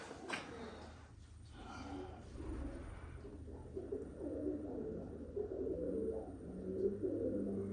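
Soft, low cooing of pigeons echoing in an enclosed mine stope at a historic mining park in Tonopah, Nevada, steady and fairly faint, with murmuring calls overlapping throughout.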